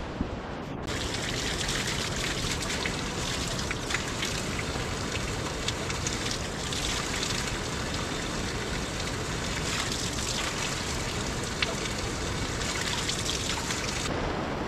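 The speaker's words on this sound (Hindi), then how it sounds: "रास्ते में आपको कहीं पर भी ऐसे झरने दिखते हैं, ऐसे धारे दिखते हैं" A mountain stream and small waterfall trickle beside a cement-paved forest path on a winter trek to Kedarnath, a steady, close, unbroken wash of running water with no voices.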